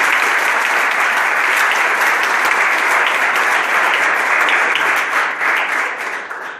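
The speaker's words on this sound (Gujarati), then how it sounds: "આપણે તાળીઓના ગણગણથી વધાવીએ" An audience at a school World Cancer Day event in Vadodara applauds to welcome guests: dense, sustained clapping from many hands, loud and steady, thinning slightly near the end.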